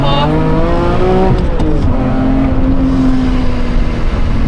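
A supercharged BMW E46 M3 track car engine revs hard and climbs in pitch, drops briefly at a gear change, then pulls again, loud and close.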